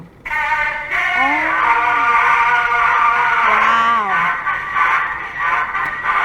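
A wind-up horn gramophone plays an old scratchy record with a thin, nasal tone, music steady and bright with surface noise throughout.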